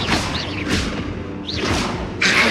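A fire spell cast in the video game Hogwarts Legacy bursts out as a series of whooshing, thudding blasts, several surges in quick succession, loud and close, with a bright crackling flare at the end.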